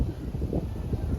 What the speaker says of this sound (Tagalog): Grabe hangin.